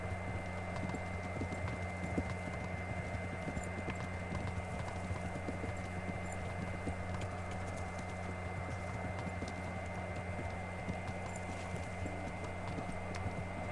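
A horse gallops in Kingdom Come: Deliverance, its hooves drumming in a quick, steady rhythm from start to end over a continuous low rumble, with no voices.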